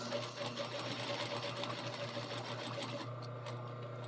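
A sewing machine steadily stitching belt loops, a close, continuous mechanical whir with a fast regular rhythm that runs throughout and eases slightly near the end.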